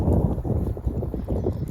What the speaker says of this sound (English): here's the wind again